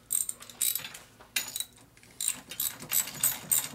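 A ratchet works in short bursts of rapid clicking on the fork clamp of a Harley FL shovelhead build, several quick ratcheting strokes separated by brief pauses, close and fairly quiet.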